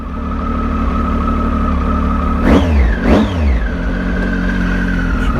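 A 2011 Triumph Tiger 800 XR motorcycle pulling away from rest, loud and close, a steady idle rising into two quick revving surges before settling into a smooth pull.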